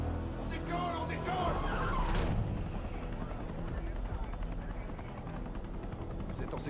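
A helicopter takes off in the Battlefield 6 video game campaign, a steady loud rotor roar and engine drone that holds throughout, with a short burst of noise early on and talk over it.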